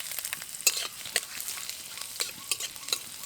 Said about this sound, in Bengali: তেলের মধ্যে দিয়ে দেবো সামান্য পরিমাণ গোটা জিরে। এবার দিয়ে দেবো আদা কুচি,